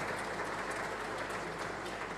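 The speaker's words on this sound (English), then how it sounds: "Another applause, please." An awards ceremony audience at the DIGI Awards 2022 applauds a winner, a dense, steady roar of clapping heard over a hall's amplified sound, with no speech.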